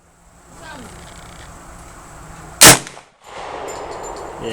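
A New Frontier AR 45 fires a single sharp, loud shot partway through, followed by a brief metallic after-ring. Low background noise and faint outdoor ambience sit around it.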